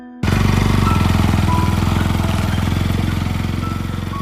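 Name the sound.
motorcycle approaching from a distance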